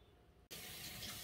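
A kitchen tap comes on, and a steady, close rush of running water follows as tomatoes are washed under it.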